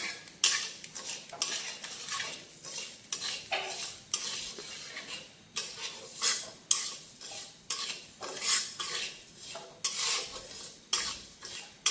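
Sugar being stirred in a pan on the stove until it melts, with repeated scraping strokes of a spoon against the metal in a steady rhythm, close and clear, and a faint sizzle beneath.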